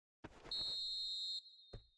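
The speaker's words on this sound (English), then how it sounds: "And the whistle goes for half-time." A referee's whistle signals half-time in the football video game eFootball 2026: one long, shrill blast followed by a short second toot.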